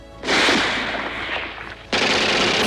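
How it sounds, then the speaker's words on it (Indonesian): War-film gunfire from German troops: sustained bursts of rapid machine-gun fire, loud and dense, cutting off briefly before another volley starts. "pasukan Jerman yang masih ada di beberapa sudut kembali melakukan penyerangan hingga Bauren terjatuh untuk menghindari tembakan"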